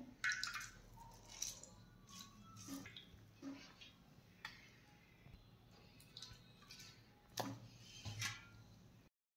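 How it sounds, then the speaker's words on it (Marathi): Soaked soya chunks are pressed and squeezed by hand, giving soft wet squishes and drips of water in irregular bursts, quiet and close, with brief pauses between squeezes. "आता यामधलं आपल्याला सर्व पाणी असं दाबून काढून घ्यायचं आहे।"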